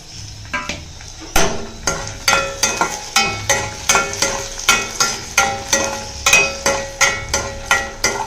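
Mustard seeds, dried chillies and urad dal frying in hot oil, with a steady sizzle broken by a rapid series of sharp pops and crackles as the seeds burst, loud and close throughout.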